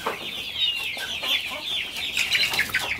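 Large chickens on a poultry farm cluck continuously in a busy, overlapping chorus, several birds close by and fairly loud, with no one speaking.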